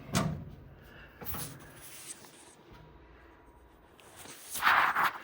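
The lower cabinet doors of a budget starter toolbox open and close, with soft clunks and thumps spread across a quiet stretch and a sharper rattle near the end.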